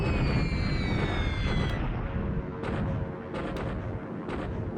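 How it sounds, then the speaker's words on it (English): Bombing raid explosions rumble in a WWII strategy video game as bombers strike an enemy airfield under construction, a dense, continuous roar of heavy booms with falling whistles early on, loud and without talk. "I'm bombing at Groot Natona, again, just trying to slow that airfield construction down if I can."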